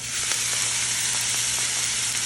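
A fragrant mixture hits hot oil in a sauté pan over medium heat and sizzles loudly and steadily at close range, with faint crackles scattered through the hiss.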